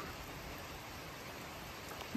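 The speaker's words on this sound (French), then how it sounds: "comme vous pouvez l'entendre, it's raining man" Heavy rain pouring steadily, a dense, even hiss of drops with no talk, faint and continuous throughout.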